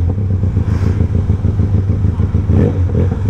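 A Benelli TRK 502 motorcycle engine revs close by, a loud throbbing rumble that swells and surges in short bursts.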